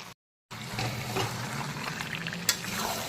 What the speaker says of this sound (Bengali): এখন চিকেনটাকে খুব ভালো করে সমস্ত মশলার সঙ্গে মিক্সড করে নেব।